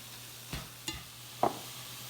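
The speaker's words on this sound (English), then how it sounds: "Now we're going to add half of a can of tomato paste. And mix it all in." A spoon works tomato paste into a pizza burger meat mixture in a pan, three soft scraping, squelching strokes over a faint low sizzle, close and quiet with no voices.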